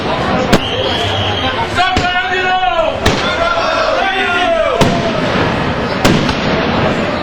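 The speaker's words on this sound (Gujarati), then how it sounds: "ભવ્ય આતશબાજીથી વડોદરાનું આકાશ ઝળહળી ઉઠ્યું હતું. આતશબાજીના ધૂમ ધડાકાથી વડોદરાએ પોતાના રાજાને ભાવાંજલિ અર્પી હતી." Fireworks bursting over Vadodara at a public tribute event, with sharp loud bangs every second or so over a crackling, whistling background and a crowd nearby.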